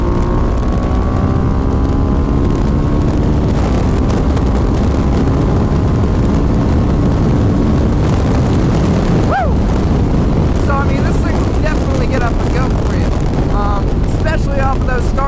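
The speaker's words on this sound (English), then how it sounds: "I know the SV650 is really torquey in first gear." A Suzuki SV650 motorcycle engine revs hard and accelerates through first gear, loud and close under heavy wind noise, with rising and falling engine pitch throughout.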